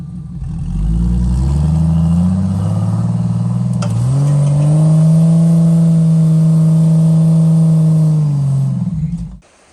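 A Chevrolet Suburban's engine revs hard and holds a sustained drone off-road, near and loud, rising and then held steady before cutting off abruptly at the end.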